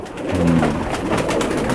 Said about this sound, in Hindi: ये कल्दुमे कबूतर हैं, फुलसरे कल्दुमे।